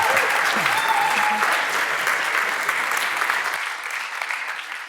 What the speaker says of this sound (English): let's give a round of applause for Timothée and the Zeiss Sales Finder application